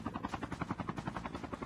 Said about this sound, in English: Is there another chopper up there?